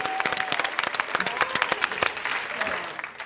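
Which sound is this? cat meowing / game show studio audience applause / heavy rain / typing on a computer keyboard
game show studio audience applause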